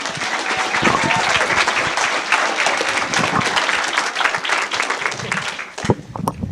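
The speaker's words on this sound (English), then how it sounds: "So please, one more round of applause." Sustained applause from an audience for a group of schoolgirls at a community event, loud dense clapping and crowd noise filling most of the stretch before tapering off into a few scattered claps near the end.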